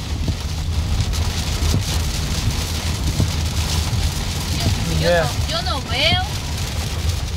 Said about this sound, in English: Look how hard it's raining.